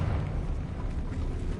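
Fire spell explosion in Hogwarts Legacy, a sustained roaring blast with heavy low rumble that holds steady and loud for the full moment, with no voice over it.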